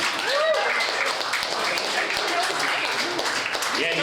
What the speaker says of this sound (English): Everyone, clap it up for Sam.